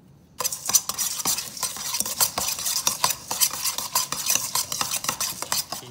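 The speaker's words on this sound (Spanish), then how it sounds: "Mezcle las papas fritas con la leche en un cuenco grande." Potato chips and milk are mixed in a large bowl, making rapid, crisp, irregular scraping and crunching strokes, close and fairly loud, with no talking.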